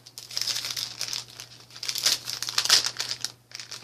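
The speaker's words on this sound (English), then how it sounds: "I'm not going to unwrap them all, but I'll try it once." Crinkly wrapping crackles and tears as a wrapped item is unwrapped during an egg carton craft challenge with bird and blossom decorations, a steady close rustle of several seconds with louder crinkles near the end, no talking.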